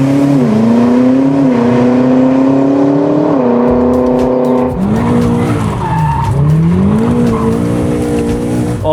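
A BMW M4 engine revs hard and accelerates, a loud, close, sustained roar whose pitch climbs and drops through gear changes, with a tire squeal near the middle and no talk.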